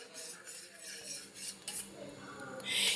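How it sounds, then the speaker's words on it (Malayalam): A spoon stirring warm milk mixed with a little yogurt starter in a metal pot, with close clinks and scraping against the sides. "നമുക്കിത് ഒറ ഒഴിച്ചിട്ട് നന്നായിട്ടൊന്ന് ഇളക്കി മിക്സ് ചെയ്ത് വയ്ക്കാം"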